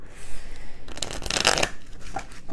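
Oracle cards riffled and shuffled by hand in a close, quiet room, a dense burst of papery flutter in the middle between softer handling rustles, with no voices.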